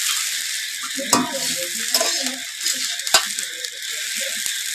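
Chowmein stir-fried with spices in a pan, with a bright, steady sizzle and scattered metallic scrapes and knocks from a spatula against the pan. Speech is faintly present.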